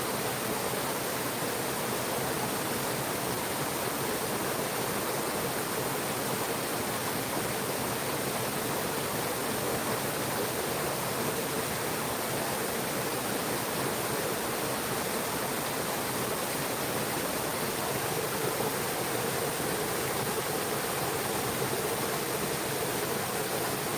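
A waterfall and stream at night roar steadily for the full length, a continuous close wash of rushing, splashing water with no voices and no change in level.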